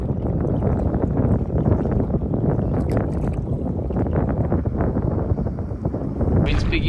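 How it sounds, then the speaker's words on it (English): Strong Patagonian wind roars and buffets the microphone steadily during a packrafting trip, a dense, loud rumble with gusty bursts throughout. "Wind's picking up some more."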